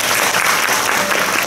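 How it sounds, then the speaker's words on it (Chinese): Dense, loud applause from an audience at a school event honoring a 76-year-old retired teacher, a steady burst of many hands clapping with no voices above it. "给他掌声鼓励一下"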